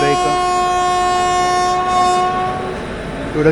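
The Deccan Queen express at Lonavala station sounds a loud, steady sustained horn tone for about three seconds, close by, with rail and station noise underneath as it prepares to depart.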